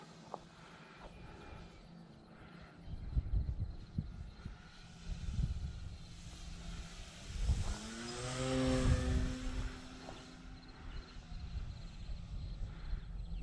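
An RC P-51B model plane's electric motor buzzes at about three-quarter throttle, a fairly faint whine that swells as the plane passes closer and then fades again, heard against light outdoor background noise.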